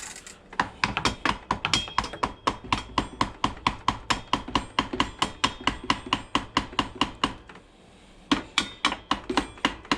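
Metal hammer blows strike an old crank on a bike build in a fast, steady run of sharp, close knocks, about four per second, with a short pause before the pounding resumes.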